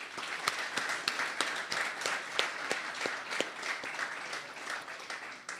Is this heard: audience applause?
yes